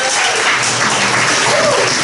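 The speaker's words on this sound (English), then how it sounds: "a round of applause for the bar staff." A comedy club audience of roughly seventy to eighty people gives steady, dense applause, a loud continuous wash of clapping with no pause.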